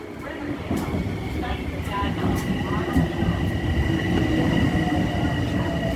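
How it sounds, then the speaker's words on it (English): A Hudson Line commuter train to New York City pulls into Dobbs Ferry station with a loud, steady rumble, faint wheel squeal and rail clicks, close by and continuous. "And here comes the train. The train has arrived."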